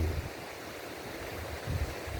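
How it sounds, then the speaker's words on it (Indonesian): Fast, shallow, clear river babbling over many stones alongside rice fields, a continuous close rushing wash with small surges at the start and end. "Kita bisa lihat sungai mengalir sangat deras, dangkal, jernih, banyak batu, sehingga suaranya itu begitu gemericik."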